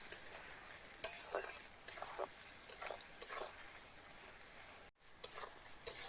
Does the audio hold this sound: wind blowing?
no